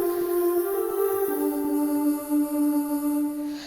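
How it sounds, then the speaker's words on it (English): Digital choir pad from a song: a sustained, held synthetic vocal chord with a soft airy shimmer and faint plucked accents underneath, moderately quiet and continuous. "So this is a sound of a digital choir."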